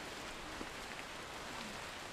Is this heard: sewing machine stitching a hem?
no